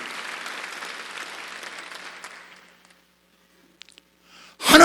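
A church congregation applauds during a Sunday worship service, a broad wash of clapping that fades out over about three seconds, followed by near silence and then a sudden loud burst at the very end.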